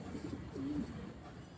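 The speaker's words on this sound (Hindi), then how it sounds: "बहुत ही अच्छे पल्ले का कबूतर है माशाल्लाह" A single short, soft coo from a fancy pigeon in a bird keeper's loft in Rawalpindi, faint and close against a quiet background hum.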